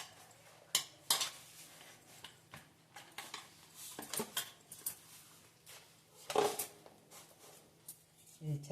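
Mixed-flour roti dough is worked by hand in a bowl, giving soft irregular pats, squelches and scattered clinks against the bowl under a faint steady hum.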